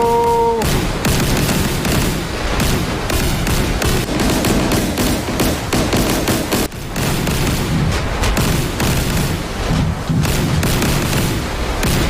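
Anti-aircraft artillery fire in DCS World, a dense, continuous barrage of booms and rapid gunfire crackling from many directions without pause, loud and sustained throughout.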